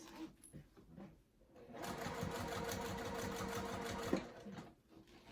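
A sewing machine stitches back and forth on a crossbody bag, running a rapid, even stitching burst of a couple of seconds that ends in a sharp click, set against a quiet room.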